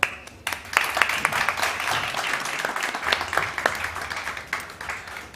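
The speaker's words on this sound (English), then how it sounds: "Please, a big applause." Conference audience applauding steadily for several seconds after a panel introduction, a dense wash of many hands clapping at moderate distance with no voices over it.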